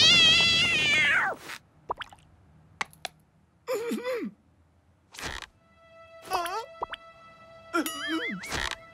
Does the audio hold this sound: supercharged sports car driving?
no